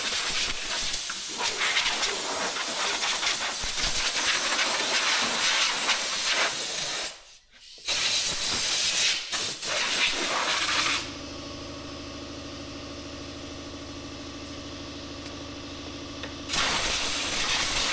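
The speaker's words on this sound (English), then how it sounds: "so now I got this wand and I'm going to spray from the inside out" A pressure-washer wand sprays a John Deere equipment engine, giving a loud continuous hiss that cuts out briefly, then shifts to a steadier, more tonal spray before the harsh hiss returns.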